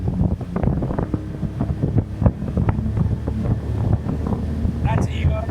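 A Seajay 4.25 Avenger boat's outboard motor under throttle on open water, with a steady droning engine buzz mixed with wind buffeting the microphone and water noise, while voices talk over it.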